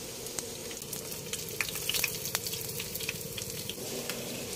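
Veggie embutido fries in a pan until golden brown, with a soft, steady sizzle dotted with small crackling pops, close and fairly quiet.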